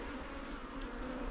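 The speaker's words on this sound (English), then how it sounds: "There were bees in the back there." Honeybees buzz steadily around an open hive during an inspection, a dense, continuous drone close by with no break or voices.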